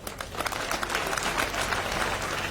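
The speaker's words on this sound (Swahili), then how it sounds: "Mujipigia makofi." An audience claps steadily and fairly loudly for a couple of seconds, a dense crackle of many hands with no voices over it.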